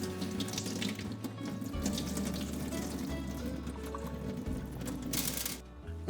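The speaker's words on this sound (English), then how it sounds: "Rinse your beans a few times and pick out any sand or dirt you may find." A tap runs steadily into a sink while beans are rinsed, water splashing and swirling close by with a soft, continuous rush.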